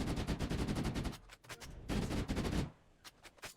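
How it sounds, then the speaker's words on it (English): Rapid bursts of pistol fire crackle in a Halo CE firefight, dense clusters of close shots with brief gaps, loud and continuous against game background noise. "just pop them in the head with a pistol."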